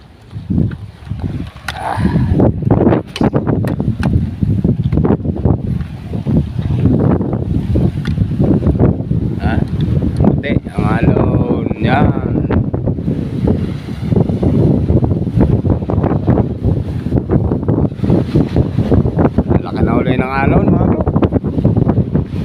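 Strong northeast monsoon wind buffets the microphone at sea, roaring and gusting continuously beside a fishing boat, with someone talking over it throughout.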